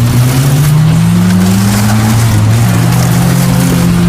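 Cars launching side by side in a drag race, engines roaring loud and close in a dense, unbroken blast, rising and shifting in pitch over several seconds.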